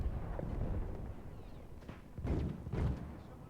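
Shotgun blasts in the video game Battlefield 1 boom dully beneath a continuous rumble of battlefield noise, with two or three heavier thuds near the end.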